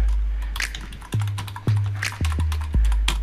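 Fingers tap out a folder name on a computer keyboard, a quick patter of close, light key clicks over a steady low hum, with a few stronger thumps between bursts.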